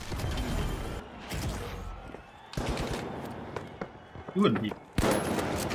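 Gunfire in the video game The Finals, with several sharp shots and bursts scattered through a busy game mix, alongside a player speaking.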